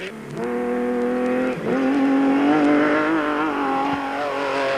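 Raceco race cars howl through the 1995 Baberspan 500 off-road endurance race, a loud, steady engine note climbing in pitch with a brief dip and gear change before revving hard again.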